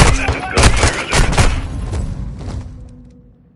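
Video game gunfire: a rapid run of loud, booming shots with rumbling echoes, tapering off into a fading tail.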